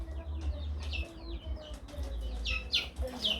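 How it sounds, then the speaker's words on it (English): African guinea fowl on a farm calling with harsh, rising metallic cries and chattering notes, several birds overlapping over a low steady rumble in the background. "Yep, these are Guinea fowl of Africa."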